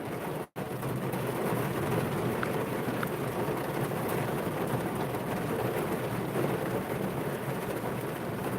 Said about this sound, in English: I'm gonna wait till this rain cools down before I go inside